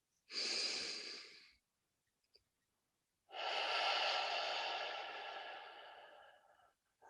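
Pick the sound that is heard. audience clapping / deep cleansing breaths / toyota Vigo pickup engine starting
deep cleansing breaths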